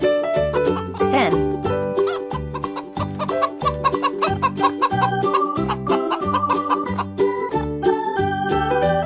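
Hen clucking from a kids' animal learning game, a few quick clucks riding on top of a continuous cheerful music loop that plays throughout.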